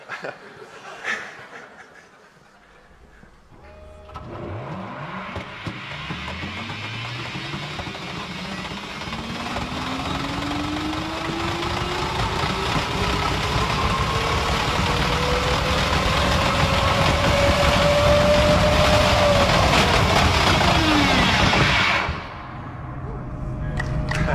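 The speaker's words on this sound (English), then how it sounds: "So that was a video of a test pod ride that we did in the Hyperloop tunnel." Hyperloop test pod riding through a tunnel, a broad rushing roar that swells steadily with rising and falling whines, loud and continuous before dropping off abruptly near the end.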